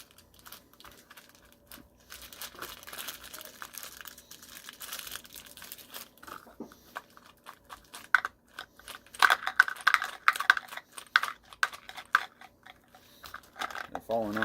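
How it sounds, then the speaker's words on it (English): Leather bag being wrapped around a form for an 18th-century style shot pouch gives soft, close rustles, creaks and crinkles, quiet at first and then busier, with a low voice faintly present. "I'm going to wrap my bag around that."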